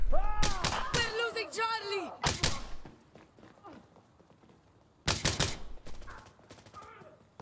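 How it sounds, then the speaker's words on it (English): Gunfire in the tactical shooter Insurgency Sandstorm, with sharp bursts of shots clustered at the start and again near the end, separated by quieter stretches with fainter distant reports. "Where's the shots coming from?"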